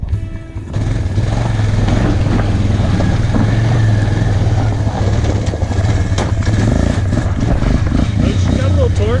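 A Suzuki Ozark ATV engine runs steadily and loudly at close range, with a constant low droning hum and slight variations in pitch throughout.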